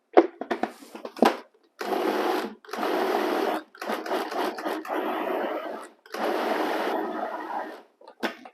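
Tomatoes are blended into purée in bursts: a loud, close blender motor whirs in about five pulses of one to two seconds each, with short pauses and clicks between them.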